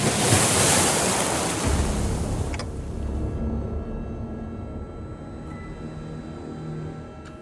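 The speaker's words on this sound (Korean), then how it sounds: "당신에겐 들리는 거죠? 그날의 파도 소리가." Ocean waves wash loudly in the video game Limbus Company for the first few seconds, then fall away to a faint, low sea hum.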